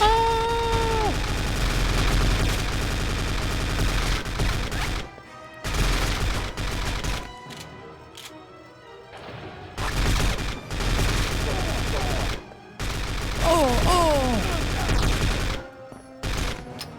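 Loud, rapid gunfire from a PSP video game comes in repeated sustained bursts separated by short gaps, with other game sounds in between.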